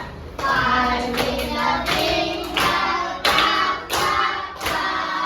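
A class of children performs the five-finger clap together in a classroom, loud, close bursts of unison hand clapping landing in a steady rhythm, about seven sharp rounds with brief gaps between them.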